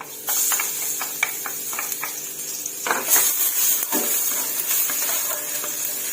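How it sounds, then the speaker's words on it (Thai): Garlic stir-fried in a pan for pork rad na over wide rice noodles, a steady close sizzle with a few scraping stirs and small utensil clinks, no talking. "ใส่กระเทียมลงไปผัดค่ะ"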